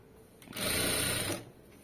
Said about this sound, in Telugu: ఇలా నీట్గా థ్రెడ్ పక్కనే కుట్టు పడేటట్టు స్టిచ్ చేసుకుంటూ వెళ్ళిపోండి ఇలాగా